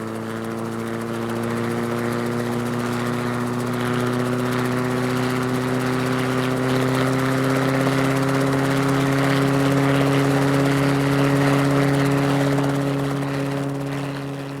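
A Rotorway helicopter engine runs steadily with a loud droning hum and rhythmic rotor chop, pitch rising slightly as it settles at constant power.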